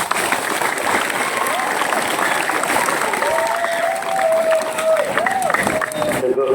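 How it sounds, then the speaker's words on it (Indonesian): Students and parents applaud at a school opening ceremony for new junior high pupils in Ponjong, Indonesia, a steady crowd clapping with scattered shouts and voices, loud and continuous throughout. "Berikan penghormatan untuk orang tua kalian dengan berikan tepuk tangan."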